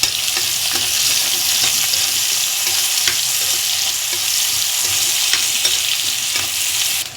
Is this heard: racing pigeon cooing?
no